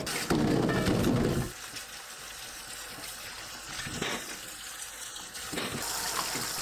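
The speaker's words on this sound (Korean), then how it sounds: "깨끗하게 씻어주세요. 무는 수세미 새거로 닦으면 힘들이지 않고 쉽게 닦아낼 수 있습니다." Radish scrubbed with a new scouring pad under running tap water, a loud gush into the sink at first, then softer trickling and occasional scrubbing and rustling.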